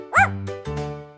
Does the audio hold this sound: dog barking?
yes